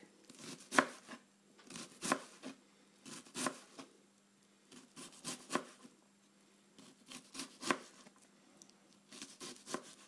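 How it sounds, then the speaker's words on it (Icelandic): A kitchen knife chops an onion on a cutting board in steady clusters of crisp, sharp strikes, several quick cuts per burst with short pauses between, close and clear with no talk. "Ef við viljum hafa hann fínt saxaðri þá gerum við fleiri rákir hingað upp."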